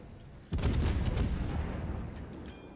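Main guns of the cruiser Moskva firing a salvo in World of Warships: a sudden heavy booming blast with crackling bursts that rolls and decays over about two seconds, loud and close, with no talk.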